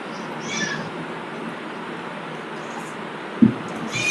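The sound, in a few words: cat meowing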